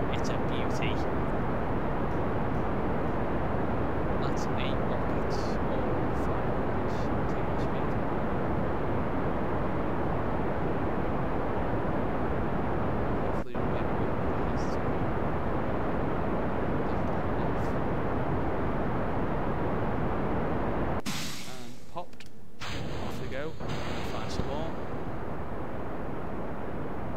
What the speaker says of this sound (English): That's 8 rockets all firing.